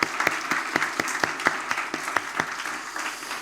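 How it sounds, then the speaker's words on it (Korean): A church youth congregation applauds those who finished reading the Bible, giving a room of clapping hands with distinct sharp claps standing out in a fairly regular rhythm, close and lively, without speech. "우리 축하의 박수를 한번 우리 완독자들에게 보내도록 하겠습니다"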